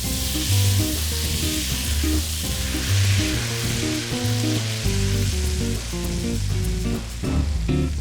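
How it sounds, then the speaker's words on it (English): Butter melting in a very hot pot over medium heat for Brazilian farofa: a loud, even sizzle with a dense crackle that holds steady throughout, close-up with no voices. "you're gonna let the pot get really hot before you add the butter"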